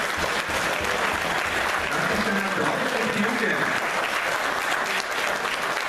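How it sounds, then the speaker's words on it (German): Audience applause at a kickboxing gala: a dense, sustained wash of many hands clapping at a steady level throughout, with crowd voices faintly mixed in. "Applaus für den ersten Kampf"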